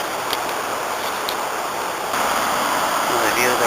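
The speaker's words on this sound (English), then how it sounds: "Another view of the River Dee and the rapids." Rapids on the River Dee at Llangollen give a steady, broad rushing roar of white water, constant and fairly close, with a slight swell in loudness toward the end.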